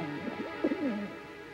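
A racing homer pigeon in a park gives a short, soft, throaty coo that rises and falls, heard close and alone over a quiet background.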